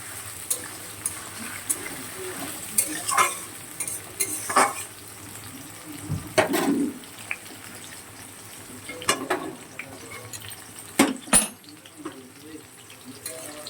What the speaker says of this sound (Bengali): পেঁয়াজগুলো কিন্তু খুব ভালো করেই ভাজা ভাজা হয়ে গেছে